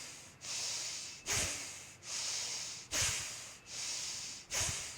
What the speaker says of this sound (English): and we're breathing in and out through the nose.